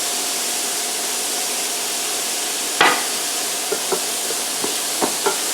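Onions and peppers sautéing in a pan with a little salt, a steady close hiss of frying broken by a sharp knock and a few light stirring taps, with no speech.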